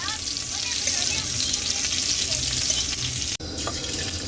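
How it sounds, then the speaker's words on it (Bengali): Cauliflower frying in oil in a pan gives a steady, close sizzle that runs unbroken, then stops abruptly near the end and resumes more faintly, with no talk. "এরপর ফুলকপিটাও ভাজা হয়ে এসছে প্রায়।"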